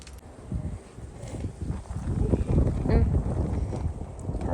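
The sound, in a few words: strong wind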